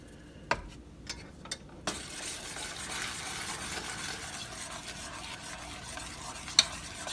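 Blue food coloring is stirred into hot liquid, a few clinks of a utensil against the pot followed by a steady soft swishing and bubbling stir, close and fairly quiet.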